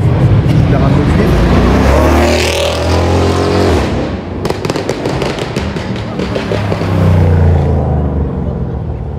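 A Mercedes-AMG GT R roars loudly and close at a car meet, its engine revving with deep rumbles and sharp crackling pops, as voices talk over the noise.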